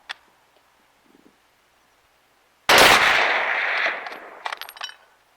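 An 8mm Mauser rifle fires a single loud, close shot at a car hood set far downrange, the sharp crack followed by a long rolling echo that fades over a couple of seconds.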